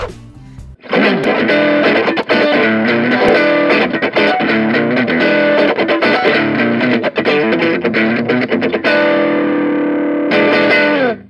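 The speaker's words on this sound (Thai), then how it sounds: "2. เสียงแตกอ่อนโอ้ตตย" A driven electric guitar plays steady chords and riffs with a crunchy light overdrive tone from a Valeton Dapper Mini effects pedal, loud and continuous, briefly easing near the end.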